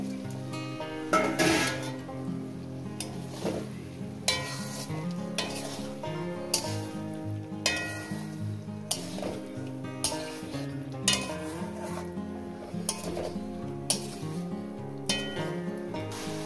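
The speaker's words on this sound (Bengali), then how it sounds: "কত সুন্দর করে মশলাটাকে কষিয়ে নিচ্ছি" A spice paste of masala for a soybean and potato curry sizzles and fries in a pan while a spoon stirs and scrapes, giving regular clinks and scrapes over steady frying, set against a musical backdrop.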